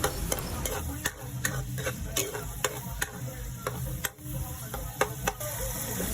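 Food sautéing in a pan with seasoning added, for a dish of misua with fried fish; a steady sizzle is broken by regular sharp taps and scrapes of a utensil stirring.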